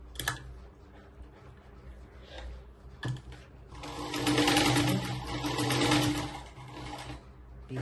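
A sewing machine stitches a blouse, running in a short burst, pausing, then whirring loudly and steadily for several seconds at close range before slowing near the end.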